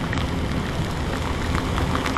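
Heavy rain pouring down in Jakarta makes a loud, dense, unbroken hiss close by, with no pauses and no voices over it.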